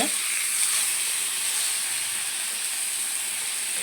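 Tomatoes frying in oil over a high gas flame while chicken boils in another pot, a steady, fairly loud sizzling hiss running unbroken throughout with no talking.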